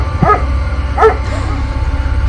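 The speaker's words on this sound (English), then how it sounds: "Barking so much." A dog barks in a horror video game, two short yelping barks about a second apart, fairly close and clear over a low steady background hum, with no talking.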